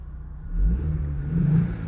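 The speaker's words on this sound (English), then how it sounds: "you just hear engine noise, zero exhaust noise" A 2025 Ford Mustang EcoBoost engine idles and then revs briefly with the exhaust set to quiet mode, giving a low, muted hum that swells and settles without any loud exhaust note.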